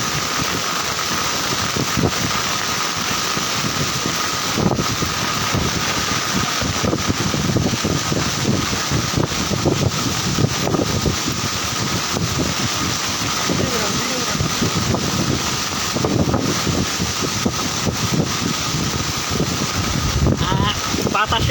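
Strong wind gusts roar and buffet the microphone during heavy rain and a flood tide on Hatiya island, Bangladesh, with a constant rushing din and a voice speaking over it throughout.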